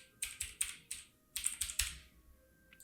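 Fingers tap out quick bursts of keystrokes on a computer keyboard, close and fairly quiet, with a short pause between two runs of typing and a single faint tap at the end.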